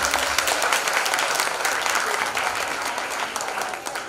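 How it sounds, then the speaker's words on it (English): Audience applause at a school annual exhibition, following a short speech: dense, steady clapping from a crowd that stays fairly loud for the whole stretch and tapers slightly at the end. "Applause."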